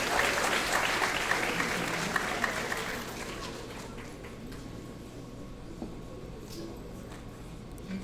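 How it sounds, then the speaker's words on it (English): Applause at a graduation ceremony, quite faint and distant, strongest in the first few seconds and then thinning to scattered clapping over a low steady hum. "Let's give Miss Leah Atkins another round of applause."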